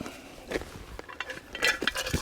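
Light plastic clicks and rattles of a small plastic Cedar Summit cutlery set being handled, a few soft taps in quick succession, close and quiet.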